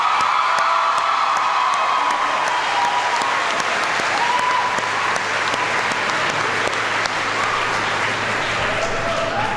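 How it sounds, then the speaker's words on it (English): A high school crowd applauds loudly in a school gathering, a thick continuous wash of clapping with a few scattered cheers and whoops mixed in, steady throughout. "Please give another round of applause to Robert for his great work."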